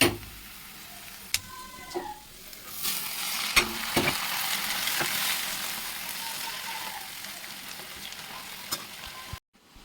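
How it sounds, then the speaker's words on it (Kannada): Hot oil sizzles and crackles steadily as tempering is made for sprouted beans, with a few sharp clinks of a utensil against the pan near the start and a brief stirring scrape. "ಇವಾಗ ಒಗ್ಗರಣೆ ಮಾಡ್ತೀನಿ"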